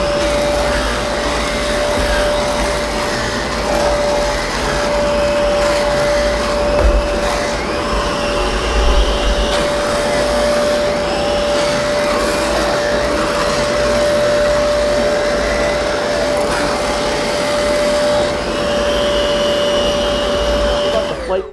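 A Zero-G F3d floating vacuum cleaner with an electric rotating brush drones loudly and steadily the whole time while cleaning stairs, with a constant motor whine and faint bumps from the brush against the steps.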